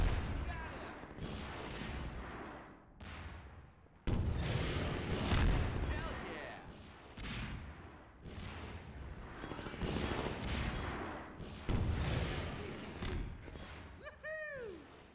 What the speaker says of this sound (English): I'll also use a rocket launcher.